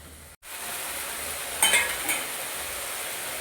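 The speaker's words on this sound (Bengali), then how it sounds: "তো সব মশলাগুলো ভালো করে একটু ভেজে নেব।" Ground spices (cumin, turmeric and chili powder) with chopped coriander fry in a pan, giving a soft steady sizzle broken by a few brief scraping stirs near the middle, with no talking.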